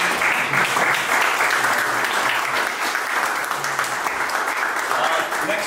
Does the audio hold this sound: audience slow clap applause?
yes